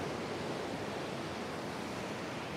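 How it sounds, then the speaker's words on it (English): Ocean waves break steadily at Burleigh Heads, a continuous loud roar of surf with no distinct pauses, heard alone without voices. "Another wave, another set forming."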